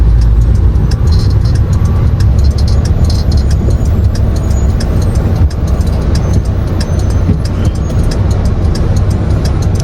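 Cars climb an uphill road, producing a steady, loud rumble of engines and tyres that continues without a break and with no voices.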